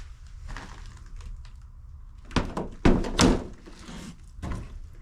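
An old door on a 1900s log cabin at an abandoned Wyoming homestead opens with a few dull wooden thunks and knocks in quiet surroundings, clustered near the middle.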